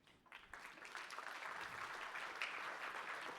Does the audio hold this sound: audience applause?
yes